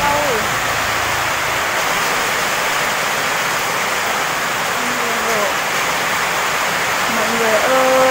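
Heavy rain pours steadily on a farm, a dense continuous hiss throughout, with brief spoken voices heard at the start and end over the downpour.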